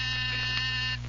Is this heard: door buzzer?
yes